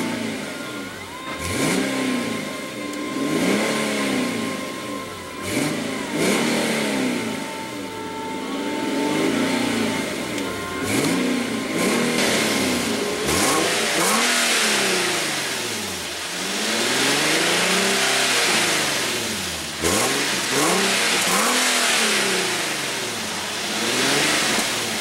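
A 2015 Infiniti QX70 SUV's 3.7-litre V6 engine revs repeatedly, rising and falling in loud, close surges with a throaty growl, no talking.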